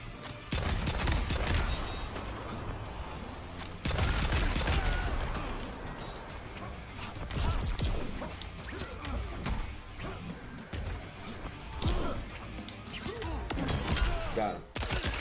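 Dense, rapid gunfire and crashing impacts fill a Mortal Kombat 11 Aftermath fight on Xbox One X, with loud bursts running continuously throughout.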